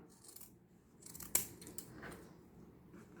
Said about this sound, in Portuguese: Aí, a gente vai vir aqui nas pontas e cortar na diagonal.